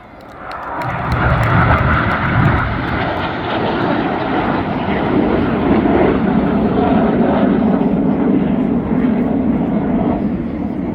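An RAF Red Arrows jet roars loud and close at an air festival display in the United Kingdom, a broad sustained engine rush that swells in and holds steady for several seconds.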